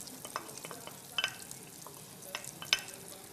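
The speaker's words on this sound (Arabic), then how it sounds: "هاي الزيت الزبده تاعنا سخنت، نرموا لها البصل" Onion tossed into hot oil and butter in a home kitchen pan, frying with a soft continuous sizzle and a few sharp crackles and utensil clinks, no voices.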